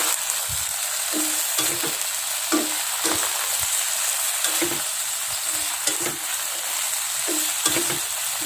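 Cassava leaves and salted fish are stir-fried in a pan, giving a steady loud sizzle with rhythmic scraping and clanking strokes of the stirring utensil, and no one speaks.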